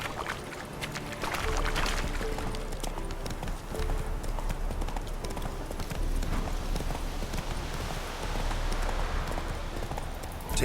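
Roach, a horse in The Witcher 3, trots with a steady, close clip-clop of hooves that continues without a break over a low ambient rumble.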